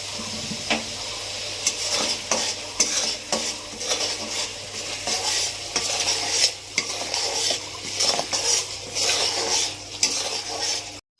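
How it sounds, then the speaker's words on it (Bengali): Spice paste for prawn malai curry sautéing in a pan, with steady sizzling and repeated scraping stirs of a utensil against the metal, close and continuous. "মশলাটা ভালো করে কষাবো।"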